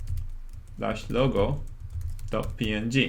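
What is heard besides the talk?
typing on a computer keyboard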